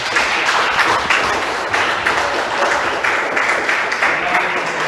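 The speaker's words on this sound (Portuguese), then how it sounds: "Então aplauda o Senhor porque Ele merece." A church congregation applauds during a sermon, with steady, dense clapping filling the room for the full stretch and holding at a fairly even loudness.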